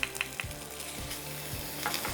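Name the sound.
onions frying in a pan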